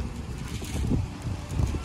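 Wind blows outdoors in a low, gusty rumble against the microphone, swelling twice in soft surges with no voices over it.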